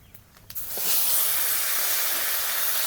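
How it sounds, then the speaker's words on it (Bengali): Pumpkin pieces drop into hot oil in a wok, a few faint knocks followed by a loud, steady sizzling hiss that settles and holds. "কুমড়োগুলো হালকা করে ভেজে নেব।"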